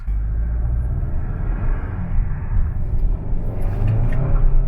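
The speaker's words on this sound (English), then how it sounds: "Oh, a little wheel spin." A 2023 Kia K5 GT with a dual clutch transmission accelerating hard with a little wheel spin, its engine heard as a loud, steady, close rumble that builds slightly toward the end, heard from inside the car with no talk.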